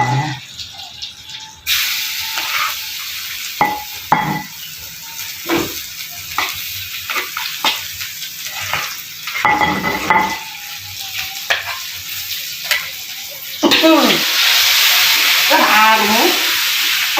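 Goat meat sizzles and fries in a pan while it is stirred, with continuous close crackling and scraping, clatters of the utensil, and a louder sizzle burst near the end as something is added.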